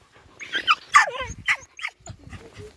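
Dogs on a weekend walk, close yips, whimpers and short barks in an uneven burst, with a bit of low human murmuring beneath.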